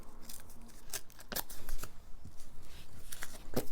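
Paper for scrapbooking is torn by hand in a string of short, crisp, crackling rips with brief pauses between them, close up at a desk.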